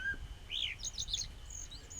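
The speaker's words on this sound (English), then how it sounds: "Can you spot the bird?" Several bright bird chirps and short tweets outdoors, a quick cluster of calls in the middle followed by a sustained whistle, heard alone over a soft background hiss.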